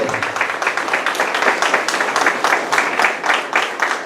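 Church congregation clapping hands for the Lord in a steady, rhythmic beat, dense and fairly loud, the room full of many hands together.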